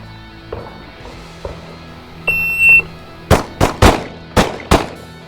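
Pistol shots ring out on a range during a timed shooting drill from the ready position: a couple of beeps from a shot timer, then five loud, sharp cracks in quick irregular succession, close and echoing.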